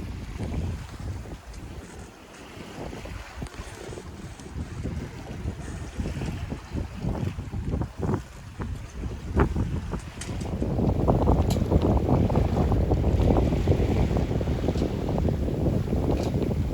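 Sailboat under way at sea on a bright day, with steady wind buffeting the microphone and water rushing along the hull, growing louder and fuller partway through, with no talking.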